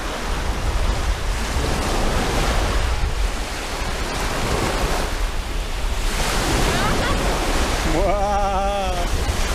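Ocean waves at Koh Mak in Thailand washing ashore in a loud, continuous surf roar with rising and falling swells, wind buffeting the microphone, and a voice briefly heard near the end.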